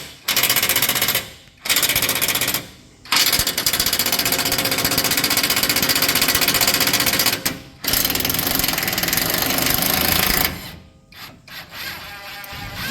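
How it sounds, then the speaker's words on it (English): The track bar bolt being removed on a Jeep JK Wrangler, with a loud hammering impact tool running in long bursts and short pauses between them. "But first thing to do is take the track bar bolt out."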